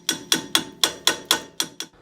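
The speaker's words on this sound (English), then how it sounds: "I strike the lugs and outside of the axle flange, with each blow creating percussion." A 16-ounce hammer strikes the lugs and outer flange of a Land Cruiser HZJ75 solid axle during hub removal, with eight sharp metallic blows in an even rhythm, loud and close, alone.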